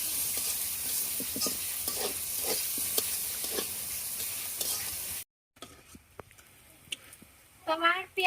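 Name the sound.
onions frying in fish-frying oil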